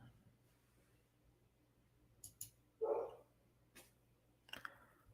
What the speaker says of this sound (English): Hopefully you guys aren't hearing that dog bark too much.